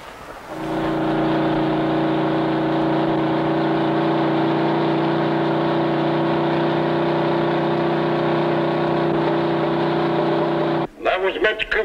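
A stock car at Darlington finishes its qualifying run, a loud, steady engine roar holding for about ten seconds before cutting off abruptly into brief clatter.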